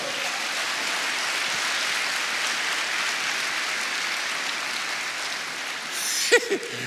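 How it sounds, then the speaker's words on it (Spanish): Congregation at a church sermon applauding for the King, a long, even wash of many hands clapping that holds steady, then a few louder claps and a brief voice near the end. "Denle otro aplauso al Rey bendito"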